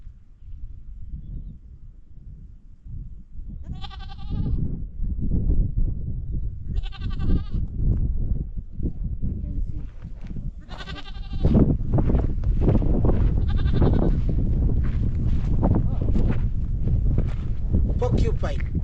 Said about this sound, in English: Even in Kenya we have mountain goats, or Maasai goats.